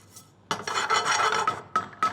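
Coriander and sesame seeds dry-roasting in a pan, a steady scratchy rasping and rustling as they are stirred and shaken, with a few sharper scraping bursts near the end, fairly close and with no talk.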